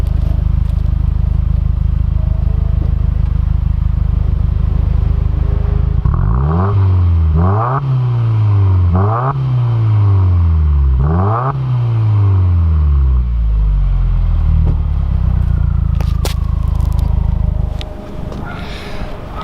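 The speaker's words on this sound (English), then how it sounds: "I'll put the camera down on the ground and actually rev it a little bit just so you can see how this exhaust sounds" Turbocharged flat-four boxer engine of a 2016 Subaru WRX Premium AWD revved through a performance exhaust, four loud rising-and-falling blips in a row over a steady idle rumble, recorded close to the ground.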